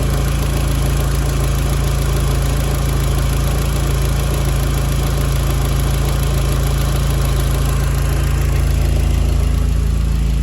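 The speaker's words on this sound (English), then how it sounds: "she is idling" A cambered, fitted Volkswagen Mk4 GTI idles steadily in an open garage, a loud, continuous low engine drone with even vibration and no speech throughout.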